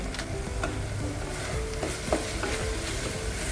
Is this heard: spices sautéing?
yes